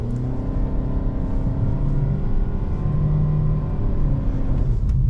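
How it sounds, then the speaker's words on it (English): A Nissan Qashqai all-wheel drive car accelerates through snow, its engine a loud, steady low rumble that holds for the whole stretch with no talking. "we're gonna try one last acceleration and brake test"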